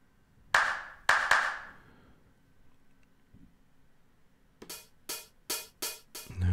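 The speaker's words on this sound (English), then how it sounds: "Let's put this clap to a bigger clap there." A sampled clap from a nu-disco drum loop in Ableton Live plays as two sharp hits near the start, then, after a quiet gap, a quick run of five evenly spaced claps, crisp and dry.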